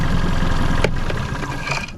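Rough-running 1998 Mariner Bigfoot 25hp four-stroke outboard engine, a close steady mechanical drone with uneven pulsing and faint rattles throughout.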